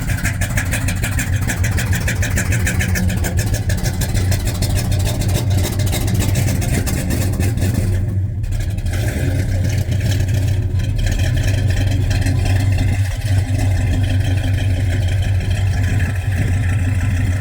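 A 1967 Plymouth Belvedere GTX runs continuously nearby for a long stretch, a steady, loud, throbbing engine rumble with a brief dip partway through.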